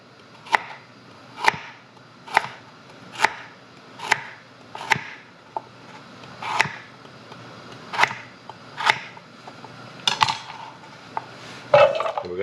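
Knife slicing large carrots into quarter-inch rounds on a cutting board: about ten crisp, evenly spaced chops close by, followed by a few quicker, softer knocks at the end.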